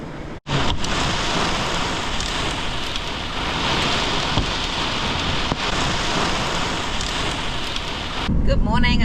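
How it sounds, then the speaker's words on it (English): Heavy evening thunderstorm rain in the Czech Republic pours down steadily and loudly, a dense roaring wash with low thunder rumbling underneath; a brief cut near the start and a change at the end. "Evening thunderstorms are here to cool it down a bit."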